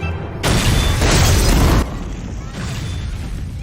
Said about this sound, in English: there's been an explosion on What? Grand Street.